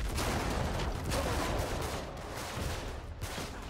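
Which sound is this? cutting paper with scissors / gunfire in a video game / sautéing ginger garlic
gunfire in a video game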